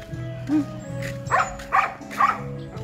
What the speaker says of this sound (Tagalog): Tingnan nyo, ang dami nilang aso.